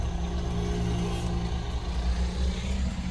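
A truck rumbles past on the road during a driving test, a loud continuous low engine drone that stays steady throughout.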